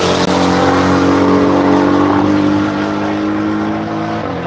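A Lingenfelter-modified hybrid car roars loudly and continuously at close range at a One Lap of America event, its heavy engine note holding steady and then easing slightly at the end.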